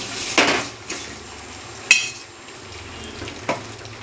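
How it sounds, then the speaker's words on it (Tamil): Potatoes and garlic stir-fried in a pan: a steady low sizzle runs throughout, broken by a few sharp scrapes and knocks of a utensil against the pan at irregular intervals, close and with no talking. "இதை நல்லா இப்படி வறுத்து விடணும்."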